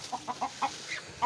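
Chickens on a farm cluck at feeding time: a quick run of soft, faint clucks in uneven rhythm, with no talking.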